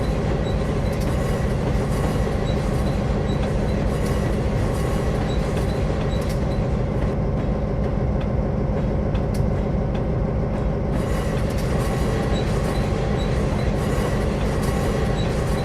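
EMD F7 locomotive train braking on the B&O Mountain Subdivision in a train simulator game, a continuous heavy rumble of rolling rail cars with clattering wheels and intermittent high squealing of brakes, loud and steady throughout.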